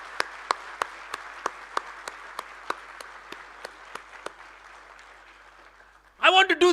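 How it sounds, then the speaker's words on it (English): Applause for graduating computer science and engineering students at a university convocation: sparse, evenly spaced claps that thin out and fade, then a short burst of louder sound at the very end. "Let's congratulate all of you once again with a round of applause."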